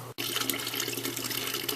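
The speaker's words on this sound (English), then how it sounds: "You can see that the water is draining now into the bucket." Water from drained cottage pipe lines pours steadily into a bucket, a continuous close splashing rush after a brief cut at the start.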